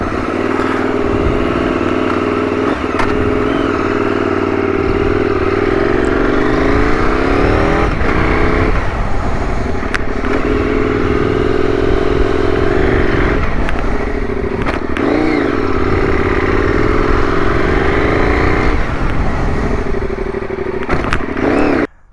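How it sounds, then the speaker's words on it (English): Loud bosozoku gang motorcycle engines idle and rev repeatedly nearby, rough throaty rumbling rising and falling in pitch over a steady mechanical clatter. "we coaxed them into revving their engines some more"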